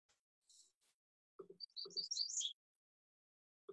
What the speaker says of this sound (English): Yeah, you really can hear the birds.